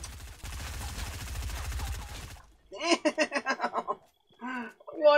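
Rapid submachine gun fire in Fortnite, a dense rattling burst lasting about two seconds, then breaks off into a man's laughter.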